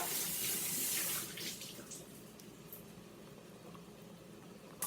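Running tap water splashes steadily into a sink as culantro is rinsed for Trini-style boiled corn, a close, bright gushing that softens partway through.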